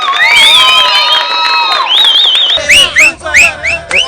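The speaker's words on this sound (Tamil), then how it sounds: "விசில் அடிச்சு கை தட்டுறீங்க" A crowd at a political speech breaks into whistles and cheering, with sharp rising whistle calls repeating over general noise, loud and near, and the whistles coming in quick bursts toward the end.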